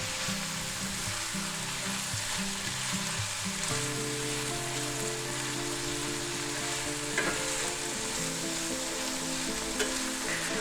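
Precooked ham warms in a frying pan for a pepper, onion and cheese omelette, a continuous close sizzle with a low steady hum underneath and no talking.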